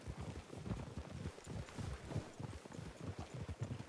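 In Red Dead Redemption 2, a horse's hooves clip-clop in a steady, even rhythm, a quiet run of repeated soft thuds with no talking over them.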